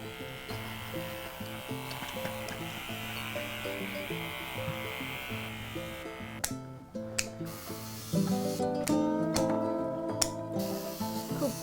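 Electric nail grinder smoothing a Cavoodle dog's nails during grooming: a steady, close mechanical buzz whose pitch shifts and rises as the tool presses on each nail, with a few brief clicks and gaps between passes.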